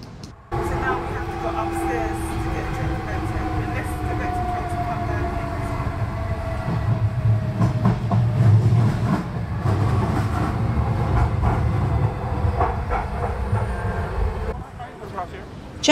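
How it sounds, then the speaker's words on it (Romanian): Riding aboard an automated driverless London DLR train: a steady, loud rumble of wheels on rails with a whining drive tone and faint clicks, continuing for most of the ride before easing off. "Am plecat cu DLR-ul, acesta este un tren automatizat fără conductor."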